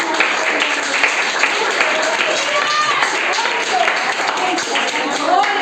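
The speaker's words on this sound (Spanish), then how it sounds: "Dale un fuerte aplauso a Cristo" A church congregation claps in a dense, continuous wash of applause, with voices and cheering rising over it.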